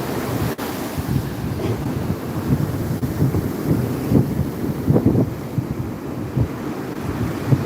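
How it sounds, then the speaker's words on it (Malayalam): Rough sea pounds the shore at Vettukad beach, surging waves breaking in repeated swells under heavy wind noise, loud and continuous with no voices. "എന്തായാലും കടല് കലി പൂണ്ട് നിൽക്കുകയാണ്"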